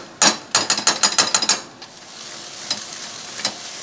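A spoon stirs thick tomato paste in a cooking pot, making a quick run of scraping, clacking strokes against the pot, followed by a few quieter scrapes.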